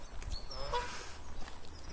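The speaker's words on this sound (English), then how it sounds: "Some more Canadian geese." Canada geese honk by water where people feed birds, harsh calls rising over steady outdoor background noise, moderately close and loud.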